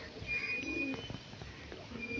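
Pigeons, including a Madrasi female, coo softly and continuously nearby, low throaty calls repeating over a steady background hiss with a faint high tone.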